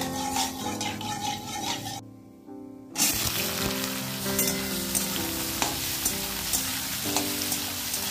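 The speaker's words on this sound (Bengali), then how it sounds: "এবার কুমড়োর ডাঁটা চচ্চড়ি চাপাবো। 5 ফোড়ন দিয়ে দিয়েছি।" Pumpkin stalk chorchori frying in a pan with five-spice tempering, a steady close sizzle with stirring and scraping throughout, broken by a brief lull near the start.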